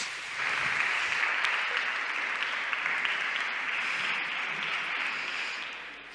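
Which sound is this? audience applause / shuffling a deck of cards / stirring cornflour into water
audience applause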